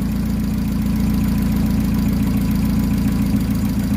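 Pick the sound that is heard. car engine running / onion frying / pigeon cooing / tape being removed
car engine running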